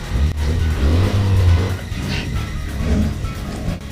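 A car pulls away and accelerates, its engine rumbling loud and close with a rising rev, then easing into a steady drive with road noise.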